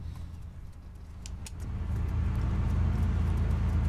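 Heard from the back seat, a car creeps slowly through city streets with a low, steady engine hum and road rumble that grows slightly louder after a couple of seconds.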